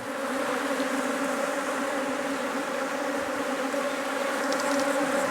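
Defensive honey bees flying around a top bar hive produce a dense, steady buzzing drone close to the microphone, continuous and unbroken throughout with no voices.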